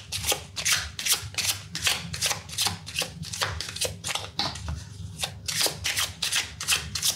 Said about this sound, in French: on va se tirer une petite carte de la numérologie